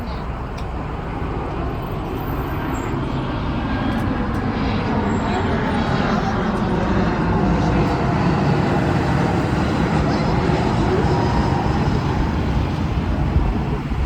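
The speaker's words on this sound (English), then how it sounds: "So you just saw an airplane fly by, right? That's flying down to Reagan National Airport." Airplane passing overhead on approach toward Reagan National Airport in Washington DC, a broad steady roar that stays loud throughout, mixed with nearby traffic noise from a trolley tour.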